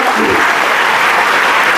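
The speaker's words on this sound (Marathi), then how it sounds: "सगळ्यांनी जोरदार टाळ्या वाजून करूया" An audience claps loudly and continuously at a public gathering, a dense, close wash of applause that lasts the whole short moment.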